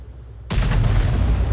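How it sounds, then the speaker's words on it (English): KV-2 tank's big gun firing in World of Tanks: after a low engine hum, a single sudden loud boom lands and rolls into a sustained heavy rumble. "the KV2 just fired"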